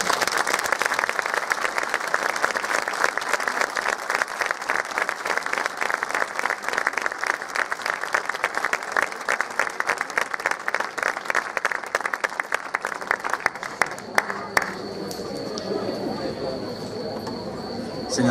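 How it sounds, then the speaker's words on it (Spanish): A crowd applauds a municipal music band after a hymn premiere for San Juan in Puntallana, dense steady clapping that thins and fades toward the end. "También pedir un fuerte aplauso, como no podía ser de otra manera, para nuestra Academia de Música"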